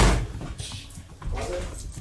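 Deputies opening a door during a search of a mansion, a close thud and rattle of the door with shuffling and clunks after it, heard amid indoor room noise.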